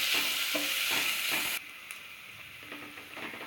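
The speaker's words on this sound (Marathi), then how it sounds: "आता हा कांदा जरा शिजून घेऊया।" Chopped onion with a pinch of turmeric fries in a pan, giving a steady broadband sizzle with occasional stirring scrapes; partway through the sizzle drops to a quieter, softer crackle that continues to the end.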